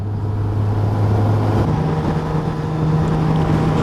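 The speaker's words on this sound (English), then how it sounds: "Good thing about inline 4 is these rev all day." A Suzuki GSX-S1000GT inline-four motorcycle engine drones steadily and loud under heavy wind rush, its pitch shifting slightly midway as the revs change.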